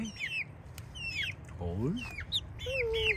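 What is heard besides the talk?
chickens clucking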